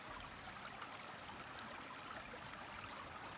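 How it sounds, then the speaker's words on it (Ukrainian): Small river stream flowing under a wooden footbridge outdoors, a steady, faint, broadband rush and trickle of water with no voices. "Ну і тут річечка тече так"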